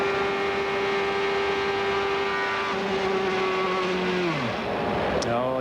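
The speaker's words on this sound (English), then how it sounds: "here's a replay of the blown engine for Scott Pruett" Onboard engine note of a 1996 CART race car, Scott Pruett's, running at high steady revs, then the pitch sags and drops away as the engine fails. The roar is loud and close under faint background noise.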